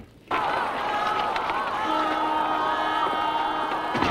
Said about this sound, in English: There's no way through the crowd